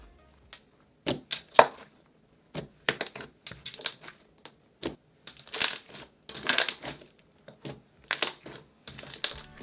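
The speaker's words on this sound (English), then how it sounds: "It was very clicky and great for bubble pops." Pear-scented slime squished by hand close up, with irregular bursts of wet clicky crackles and bubble pops separated by short silences.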